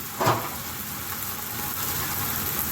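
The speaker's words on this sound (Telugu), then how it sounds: "కూరకు సరిపడా నీళ్ళు వేస్తున్నాను" Water poured into a pan of cooked mutton curry gives a brief hiss and splash, then a steady sizzle and simmer close by, with no talking.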